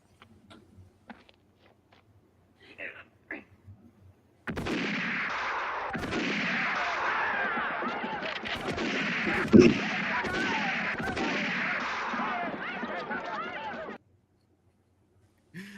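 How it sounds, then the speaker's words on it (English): Gunfire from a western film rings out in a rapid, echoing string of loud shots that erupt suddenly and run for about ten seconds, with a few faint sounds before and silence after. "I love that he shoots off all their hats."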